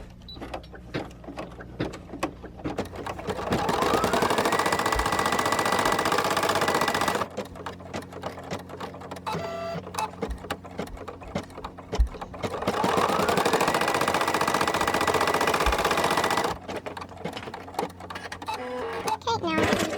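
A Brother PE-770 embroidery machine stitching an applique onto a onesie, two long stretches of rapid, steady mechanical whirring and clatter, with quieter intervals of machine noise and someone talking between them.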